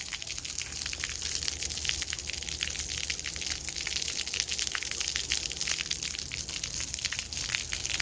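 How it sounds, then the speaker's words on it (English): Water sprays steadily from a splash pad shower nozzle rising from the ground, a dense continuous hiss and patter close by, with no voices. "It looks like a shower coming up from the ground."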